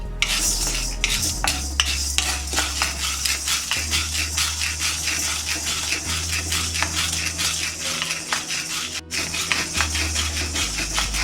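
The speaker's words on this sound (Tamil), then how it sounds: "அடுத்து நம்ம கடலைப்பருப்பை வறுக்கலாம். இந்த கடலைப்பருப்பையும் நிதானமாக பொன்னிறமாக ஆகிற வரைக்கும் வறுத்து எடுத்துக்கலாம்." Chana dal (split chickpeas) being dry-roasted in a pan for curry leaf powder, giving a dense, continuous rattle and scrape of stirring against metal, steady and close throughout with no talk.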